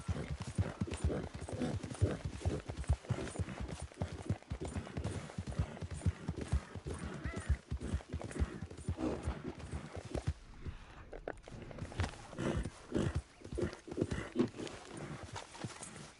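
A horse in the video game Red Dead Redemption 2 clip-clops steadily at a walk, hooves thudding in a regular rhythm, close and fairly quiet, with a brief pause near the middle.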